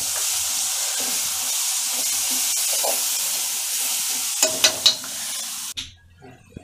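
Ginger garlic paste sizzles steadily in hot oil for a large batch of dhaba-style matar paneer, with a few sharp spoon scrapes near the end before the frying noise cuts off abruptly.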